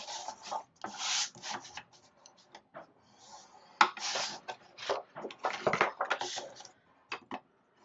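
A tool scores lines into cardstock on a scoreboard with short, scratchy rubbing strokes in uneven bursts and brief pauses. The sound is close and fairly quiet.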